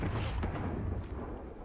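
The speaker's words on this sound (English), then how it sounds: "We just hear a faint explosion and then the dot just disappeared" A faint, muffled explosion from the Call of Duty Warzone video game thuds once, distant and low, within a steady bed of game noise.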